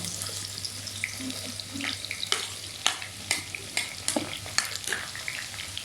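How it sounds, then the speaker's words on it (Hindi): Onions hit hot oil in a pan and crackle into a soft, steady sizzle, punctuated by sharp stirring clicks and spatters, with a low hum underneath and no talking. "तो ऑयल गर्म हो रहा है। अब डालते हैं इसमें हम प्याज।"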